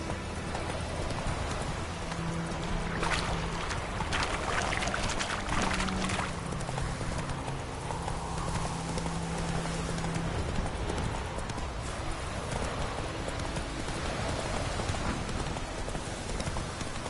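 Roach, a horse in the video game The Witcher 3, clip-clops along steadily through rain. The hoof falls sound moderately close against a constant wash of rainfall and splashing water, and no one speaks.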